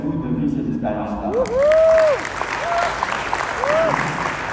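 An audience at a real estate seminar bursts into broad, continuous applause, with a voice speaking over it and a sweeping tonal whistle cutting through the crowd noise.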